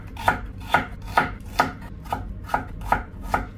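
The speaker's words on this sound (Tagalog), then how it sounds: "Hiwain lang natin ang okra, kamatis," Okra, tomato and onion are sliced with a knife on a cutting board, about eight evenly spaced, crisp chops in a steady rhythm, close and clear, with no talk.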